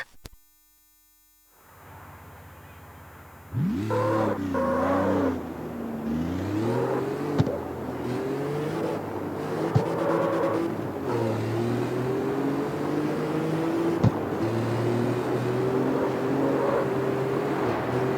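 A car engine in CarX Street on a test drive starts up and then revs and climbs through the gears with a rising, whining drone that stays loud and continuous.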